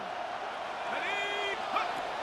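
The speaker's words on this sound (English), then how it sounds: "Crowd getting in it a bit already." Crowd noise swells in a Madden NFL 26 football game, a steady roar of cheering with a brief whoop rising above it.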